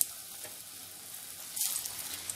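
Bottle gourd kofta balls in hot oil give a soft, steady sizzle with a brief louder hiss near the end.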